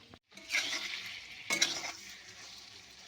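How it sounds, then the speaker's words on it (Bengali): Capsicum fries with ground coriander, cumin and Kashmiri chilli powder, giving a quiet sizzle broken by two spatula-stirring scrapes in a pan. "2 মিনিট একটু ভেজে নেব ক্যাপসিকামটা।"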